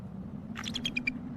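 A bald eagle calls out in snowy weather, a quick series of about six high, sharp chirping screams that rise over a steady low background rumble, moderately near.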